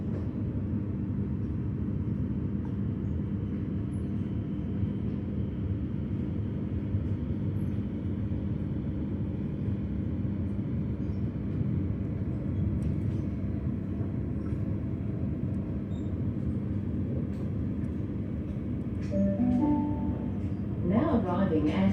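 Melbourne suburban train on the Frankston line running steadily between McKinnon and Bentleigh, with a constant low rumble and hum throughout and a brief brighter squeal near the end; an onboard announcement voice speaks over it.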